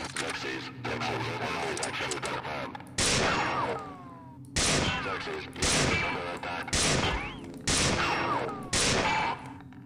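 Assault rifle fire in the video game System Shock 2 comes in a string of short, loud, rapid bursts, roughly one every second in the later half, after a busier stretch of mixed game noise.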